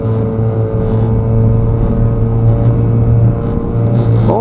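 A boat engine drones steadily and loudly, a low throbbing hum with a slight change in tone near the end.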